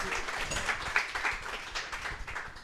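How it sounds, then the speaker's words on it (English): A live audience at a café event gives a modest round of applause, a soft, continuous patter of many hands clapping at moderate distance, fairly quiet and even throughout. "a little round of applause for our friends"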